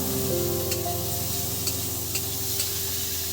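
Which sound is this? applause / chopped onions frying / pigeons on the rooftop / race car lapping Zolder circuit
chopped onions frying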